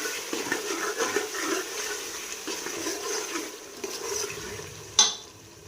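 Minced meat being stirred and browned in a pan over medium-low heat, a soft continuous sizzle with scraping spoon strokes and one sharp clink of metal near the end.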